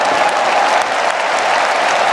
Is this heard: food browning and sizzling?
no